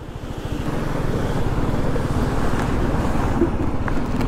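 Water from a waterfall runs across a mountain road in Nepal, producing a loud, steady rushing wash with rumbling low noise and wind buffeting the microphone.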